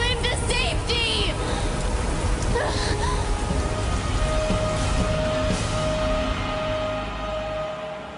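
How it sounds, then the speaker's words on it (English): A wind and rain storm pours steadily, dense rainfall hissing loudly throughout with a brief sustained tone near the end and a few faint scattered sounds, no talk. "Hear me, mighty winds and rain."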